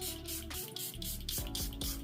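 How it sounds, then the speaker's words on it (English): Several quick hissing spritzes from a pump bottle of matte setting spray onto a face, close up, in a steady rhythm over a faint tonal hum. "I spray my face with the Absolute New York Matte Probiotic Setting Spray"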